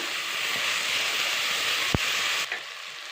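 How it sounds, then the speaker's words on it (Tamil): Ginger garlic paste sautés in a hot pan for chicken rasam, a steady loud sizzle and hiss with a spatula clack or two as it is stirred. "இப்போ நம்ம இஞ்சி பூண்டு பேஸ்ட்டு சேர்த்துக்கலாம். அதையும் ஒரு 2 நிமிஷம் வதக்கி விட்டுக்கலாம்."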